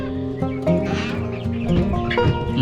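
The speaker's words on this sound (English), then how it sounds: "Let's take a look at these chicks." Chicks in a backyard chicken coop clucking and chirping steadily, several birds calling over one another at close range with no talk.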